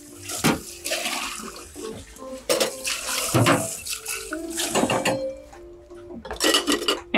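A homemade lemonade of grapefruit, mandarin and lemongrass shaken with crushed and cube ice is poured into a big glass, giving splashing liquid and clinking, rattling ice up close, with brief bursts of pouring.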